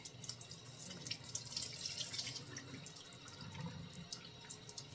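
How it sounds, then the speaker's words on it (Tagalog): Warm tap water runs steadily into a sink as frozen food is rinsed to remove ice, a soft, close splashing stream with small drips, fairly quiet and continuous. "Hugasan ko na lang ito. Para matanggal yung ice. Hugasan ng warm water."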